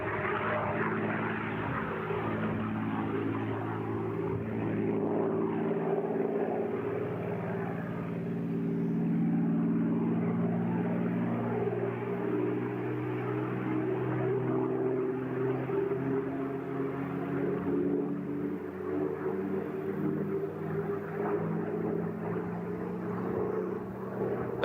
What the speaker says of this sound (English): That beautiful P-51 Mustang definitely helped America and its allies to win World War II.